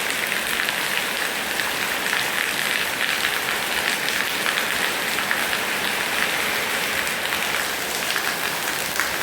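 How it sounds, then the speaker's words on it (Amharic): Rain falls onto a home balcony in a constant, dense hiss of drops, close and loud, with no pauses. "ዝናብ ሲዘንብ ወደ በረንዳችን ላይ ማለት ነው ወደ ቤት ይገባል።"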